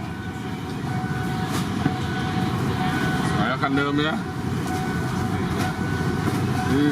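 A freight train of empty oil tank cars rumbles steadily past with a continuous heavy roar, a few faint squeals rising briefly, while someone talks over it.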